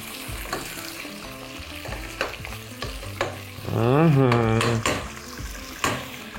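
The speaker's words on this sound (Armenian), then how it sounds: "և շարունակում ենք տապակել, թող համեմունքների բույրերը բացվեն։" Lamb fries with spices and grainy mustard in a pan. A close, steady sizzle runs under repeated clinks and scrapes of a stirring utensil, with a brief voice partway through.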